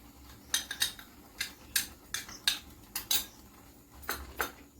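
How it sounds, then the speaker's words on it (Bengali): A utensil scrapes and clinks against a pot as milk powder is stirred into mango kheer, a dozen or so irregular metallic strokes up close with no talking. "এবার ভালো করে নাড়াতে হবে এটাকে।"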